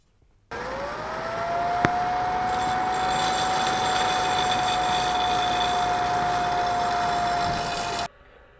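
A small grinding wheel cleans up the fullers of a forged medieval sword, giving a loud, steady high-pitched whine that holds for about seven seconds with one sharp tick partway through, then cuts off.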